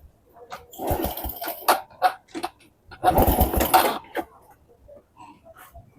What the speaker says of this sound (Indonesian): Kita coba starter kosong dulu ya.